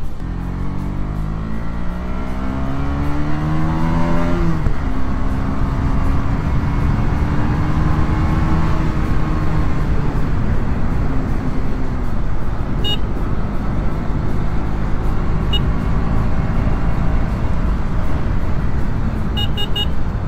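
A motorcycle engine drones loudly through a snow ride, rising revs at first, then a continuous rough rumble with road noise and a few faint beeps over about twenty seconds.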